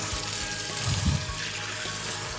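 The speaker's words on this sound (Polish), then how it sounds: "mam włączoną ciepłą wodę, nie używam żadnej gąbki z płynem do mycia naczyń, tylko przepłuczę patelnię" Warm tap water runs steadily over a frying pan being rinsed in a sink, a continuous broadband splash with a few heavier gurgles as the flow strikes the pan, close and alone with no talking.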